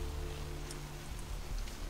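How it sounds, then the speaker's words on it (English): Steady, soft rain patter in the video game Vampire: The Masquerade – Bloodlines, with a low background hum, continuous throughout and fairly faint. "Es regnet."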